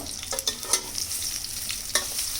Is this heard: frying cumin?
yes